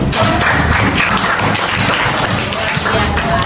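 Children in a classroom clap their hands together in a dense, steady burst that fills the short stretch, close and fairly loud, with no talk over it.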